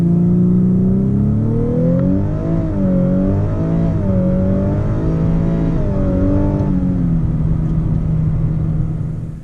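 Close, loud engine note from the 3.5 litre V6 of a 2017 Lexus LC 500h hybrid as it accelerates, the pitch rising and wavering through shifts before settling into a steady drone, with no talk over it.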